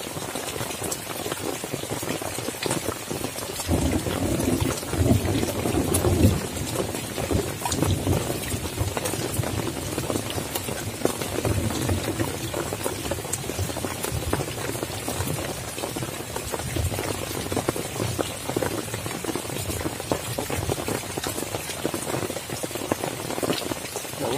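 Steady, dense rain drums on a tent and the surrounding ground at a solo campsite during a rainy-season night, a continuous hissing patter that never lets up.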